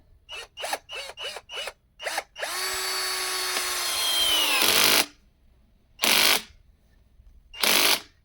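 A Ronix cordless screwdriver set to screw mode drives a screw, starting with several short clicking bursts, then a sustained rising motor whine of a few seconds, followed by separate short buzzes.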